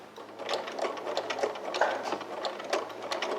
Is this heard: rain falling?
no